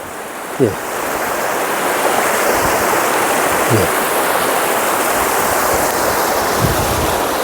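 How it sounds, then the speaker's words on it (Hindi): Ganges river water rushing in several streams through a forested area, heard as a steady, loud broadband wash with wind buffeting the microphone and a few low thumps. "ये गंगा जी हैं। ये वहाँ से उधर से धारा चली आ रही है और ये इधर भी धारा चल रही है।"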